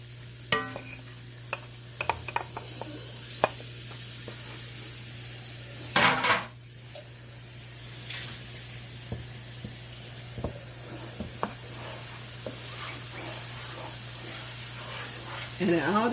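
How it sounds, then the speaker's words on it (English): Flour browns in a pan after country fried steak as a base for mushroom gravy. A low, soft sizzle runs under repeated stirring scrapes and utensil taps, with one louder clatter partway through, over a constant electrical hum. "I'm going to go ahead and brown some flour"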